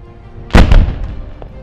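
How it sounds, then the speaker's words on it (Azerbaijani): A controlled detonation of buried landmines goes off as one loud, sharp blast, followed by a second burst and a rumbling decay, heard alone with no talk. "Bütün postların nəzərinə, 5-in əksinə sayımda partlayış baş verəcək"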